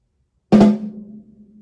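Two snare drum strokes played in quick succession as a da-da rhythm rather than a flam, heard as a single loud, close attack followed by a ringing decay that fades over about a second, with no talking.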